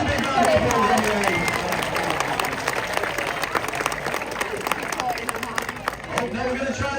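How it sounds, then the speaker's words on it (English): A crowd applauds at a sea lion show at Blackpool Zoo, with steady clapping and murmuring audience noise under a presenter's amplified voice. "She deserves a big round of applause anyway."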